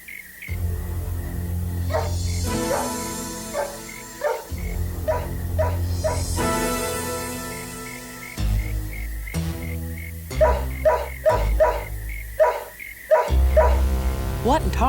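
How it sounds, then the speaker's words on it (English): A dog barks repeatedly in short bursts, near and loud, with some whimpering yips between barks, in a tense outdoor night scene. "It's nobody, just a dog. What's he barking at, though?"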